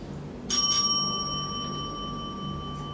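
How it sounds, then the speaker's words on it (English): A single debate timer bell rings once, a clear bright tone that sustains and slowly decays over a quiet room. "After speaker has spoken for 4 minutes, the bell will ring like this."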